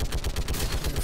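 Rapid gunfire in the video game Mass Effect 3, a dense burst of shots at a steady fast rhythm, close and fairly loud, with no talk.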